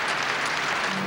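A large crowd in St. Peter's Square applauds after the announcement of Pope John Paul II's death, a continuous rushing wall of distant clapping from many people.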